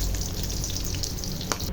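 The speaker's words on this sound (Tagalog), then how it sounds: "Tayo ay nagpiprito ng isda." Fish frying in a pan for sarsyadong isda gives off a steady, close, dense sizzle with fine crackles and an occasional sharper pop.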